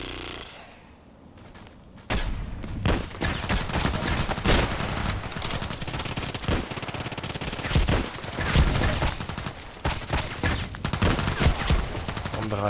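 Video game battle gunfire with sniper rifle shots and machine gun bursts, dense rapid cracks and rattles that start abruptly after a quiet moment and keep going loudly, with some faint game sounds underneath.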